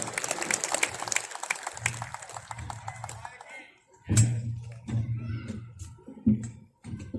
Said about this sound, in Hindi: और तालियां उनके संबोधन और उद्बोधन के हिसाब से थोड़ी कमजोर थी आपकी